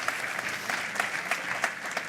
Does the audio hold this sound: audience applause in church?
yes